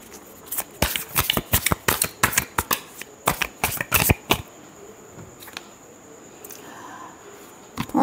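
Tarot cards are shuffled close up in a quick burst of crisp riffling snaps, then the handling tapers off into a quiet, faint rustle.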